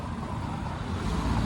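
Cars and trucks rush past on a narrow road, a steady close roar of engines and tyre noise that swells slightly toward the end, with no voices.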